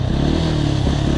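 A Sherco SE-RS 125 enduro motorcycle engine idles close by with a steady buzzing putter and light mechanical clatter, briefly.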